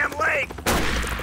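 A burst of gunfire in GTA V, a sudden loud crack with a ringing tail after a moment of talk.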